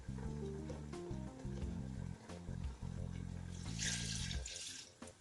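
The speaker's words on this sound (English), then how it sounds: "then I will add more water." Water runs steadily into a cooking pot of Nigerian spinach and okra soup with stockfish. The pour continues for about five seconds over a busy background.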